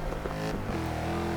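Mercedes GTS twin-turbo V8 engine in Forza Motorsport 6, a deep, steady droning roar with a sustained harmonic tone, heard up close for a brief stretch.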